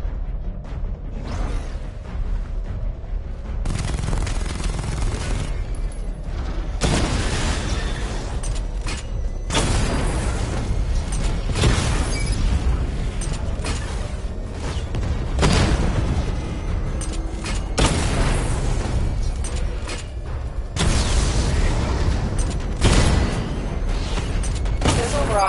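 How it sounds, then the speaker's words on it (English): Heavy booms and blasts from Batmobile tank weapons in Batman: Arkham Knight, repeated loud bursts spread through a training simulation, with talking over much of it. "Charge up missile barrage to level 2 and destroy 4 active targets to complete diagnostic test."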